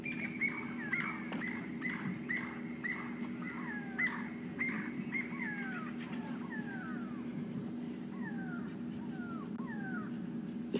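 Repeated descending screeching calls from birds in the African bush, with a bird of prey chasing a francolin and go-away birds answering. The calls come in a steady series at moderate distance over a constant low engine-like hum.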